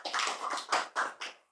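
Audience applause at an Islamic religious lecture, a short burst of broad clapping in a few swelling waves that fades out after about a second and a half, with no voice over it.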